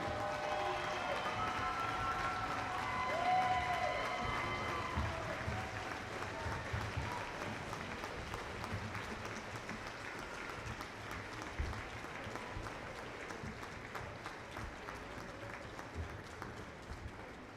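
A crowd in a high school gym at a basketball game applauds for a state championship girls' golf team, a long, steady wash of clapping and cheering that slowly fades, with some voices underneath.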